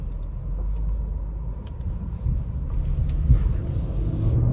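Engine of a 2023 Ford Explorer ST accelerating in sport mode, heard from inside as a steady low rumble with road noise and a slight swell in the middle.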